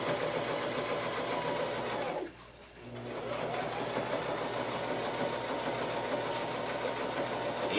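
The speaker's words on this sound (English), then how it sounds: "I'll back stitch these now." A sewing machine back-stitches layers of handbag fabric with a loud, continuous close-up whir and rattle that dips briefly as it reverses, then runs on steadily.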